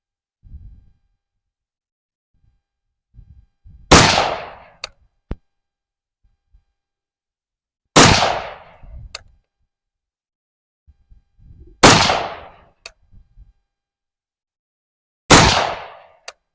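A Steyr AUG A3 M1 rifle fires four single shots on a range, each a loud, sharp report with a short ringing tail, spaced roughly four seconds apart, with faint clicks and low handling sounds between them.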